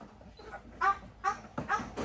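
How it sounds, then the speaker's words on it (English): A shelter dog lets out a few short, muffled barks and whimpers close by in a quiet room. "That's a big bark you got, boy."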